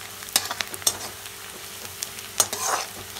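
Fenugreek seeds and onions fry in hot oil for a jackfruit sabzi, with a soft steady sizzle broken by several sharp scrapes and clinks of a spoon stirring the pan.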